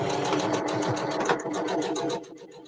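A sewing machine runs close and steadily as it stitches teddy bear fabric, a fast rhythmic mechanical whirr that eases off and stops near the end.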